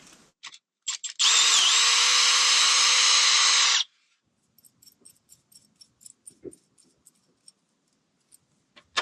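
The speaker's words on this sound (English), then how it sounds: "We could actually just drill a hole through." A power drill whines loudly for about three seconds while drilling a hole, then stops, followed by scattered light clicks and small taps in near silence.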